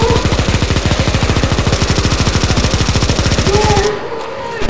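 Rapid automatic gunfire from a CSGO Zombie Escape mod boss fight on ze_necromanteion_v3_1, stage 3: a loud, dense, steady stream of shots that cuts off abruptly near the end.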